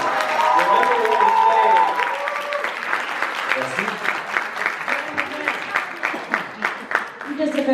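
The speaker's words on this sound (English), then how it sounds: "Can we just have a round of applause for this man" A convention audience applauds a panelist at a fan event, the clapping rising to a dense burst that runs under speech and sustained voices before thinning into scattered claps.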